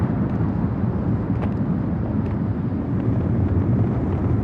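Strong wind buffeting the microphone while cycling uphill on the Pacific Coast, a constant low roaring rumble with no breaks, loud and close, no talking.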